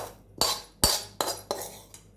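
A spoon knocks against a bowl while curd is stirred for a sweet pumpkin curd chutney, giving five sharp clinks at a steady, unhurried rhythm, close and clear with no talk.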